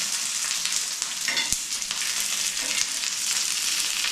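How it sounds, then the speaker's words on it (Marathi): Green chilies roasting on a hot griddle for thecha, a close, steady sizzle and crackle with occasional stirring scrapes, no voices. "लगेच सगळ्या मिरच्या भाजायला घेतलेले"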